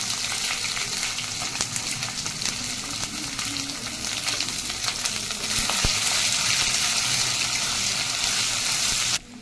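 Two dried red chillies and two bay leaves crackle and sizzle steadily in hot oil, a dense, close frying hiss that holds for several seconds with a few sharper pops before cutting off.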